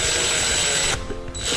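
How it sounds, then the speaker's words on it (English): Cordless power drill whirring steadily as it drives screws into a Traxxas RC car motor mount, a close, loud continuous motor whine that cuts off briefly near the end before spinning up again. "If you're using a power drill like I am, be sure you don't tighten them all the way."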